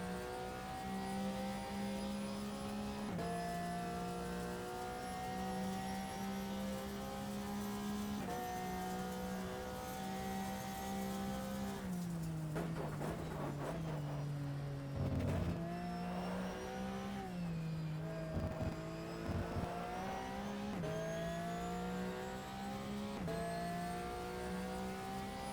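A race car in the racing game GTR holds a steady engine drone that dips and climbs as it downshifts and blasts back up through a run of chicanes, loud and continuous, with no one talking.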